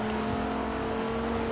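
A retro muscle car's engine drones in Forza Horizon 2, a steady, throaty hum at moderate volume that holds fairly even across the moment.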